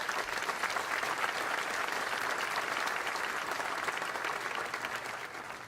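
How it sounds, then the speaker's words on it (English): A crowd at a Peoria Chamber State of the City address applauds steadily, a dense wash of clapping that holds at an even level and fades slightly near the end. "I'd ask you right now to please give them a round of applause"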